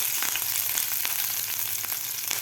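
Curry leaves and green chillies fry in hot oil for a mango rice dish, giving a steady close sizzle with light crackles and pops throughout, no talk.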